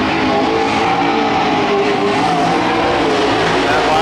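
Super stock race cars roar around the Petaluma Speedway oval in a loud, continuous engine drone with faint tire squeal, close and sustained throughout.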